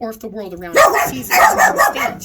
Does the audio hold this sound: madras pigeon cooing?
no